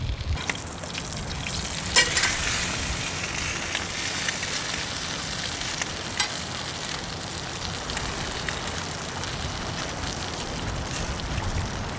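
Fish fries in butter in a cast iron pan at a primitive camp, a steady close sizzle with crackles and spits throughout.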